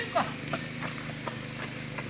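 Bull hooves clop on hard ground in a quick, uneven series of near knocks, with voices talking over them.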